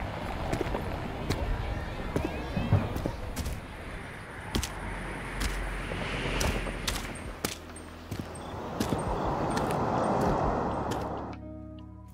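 Footsteps on mud and leaves, produced as a synthesized footsteps preset, repeating in a steady walking rhythm of soft squelches and crunches, fairly close and moderately loud throughout.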